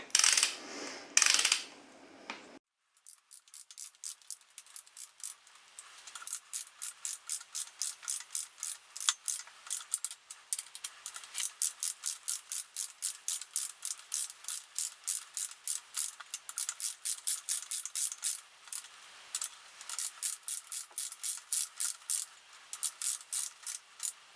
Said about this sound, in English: Then we're gonna torque them down to 48 Newton meters of torque.